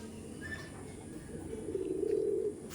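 Low, continuous cooing of Giribaj pigeons, faint at first and growing fuller toward the end, with no speech over it.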